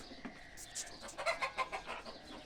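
Farm chickens cluck in a coop, a scatter of short, fairly faint clucks and calls over a quiet background.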